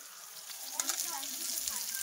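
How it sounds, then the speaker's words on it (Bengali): Small fish resembling hilsa dry-fry in a pan with a soft, steady hiss and faint crackling, brief and fairly quiet. "এটা ভাজি হচ্ছে"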